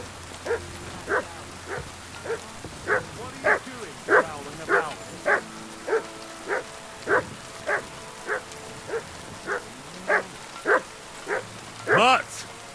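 Dog in Kingdom Come Deliverance II barking steadily, about sixteen evenly spaced single barks, near and fairly loud over a rainy background, ending with a sharper yelp.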